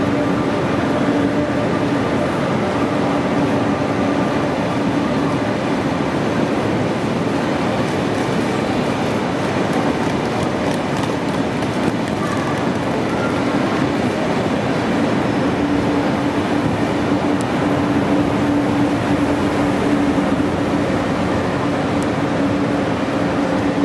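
Class 1116 electric locomotives pulling out of Salzburg Hauptbahnhof, a steady rumbling hum of rolling rail traffic with a faint tonal whine that holds throughout, fairly close and unbroken, with no talk.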